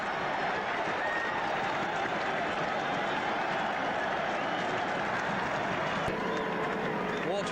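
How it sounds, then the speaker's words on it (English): Crowd at a 1989 Widnes versus Warrington rugby league match applauds after a long try-scoring run, a steady wash of clapping and crowd noise at an even level throughout, with a commentator speaking over it. "A warm applause for a nice little 75 to 80 yard sprint"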